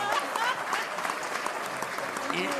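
Audience applause at a Tamil comedy show, a steady patter of clapping that fills the short stretch at moderate level, with voices mixed in underneath.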